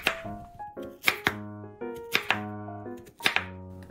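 A knife slices peeled sweet potato into thin rounds: five or six crisp, fairly loud chopping thuds land at an uneven pace over steady background music.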